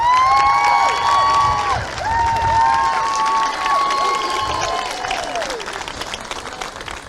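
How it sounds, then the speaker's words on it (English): Supporters at an All Ireland club football final between Granemore and Athleague clap and cheer loudly, with whoops, children shouting and whistles rising over dense crowd applause that slowly eases. "So give yourselves a round of applause as supporters for these two teams."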